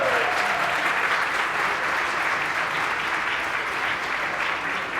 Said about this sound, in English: Can we get some applause for that?